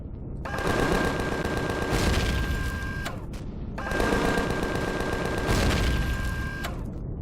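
Enemy gunfire in the video game Empyrion, two long sustained bursts of rapid automatic shots separated by a short pause, loud and close with a mechanical, buzzing rattle.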